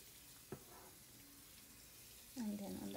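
Tap water runs softly into a sink while pork spareribs are washed, faint at first and then swelling into a louder splashing stream near the end.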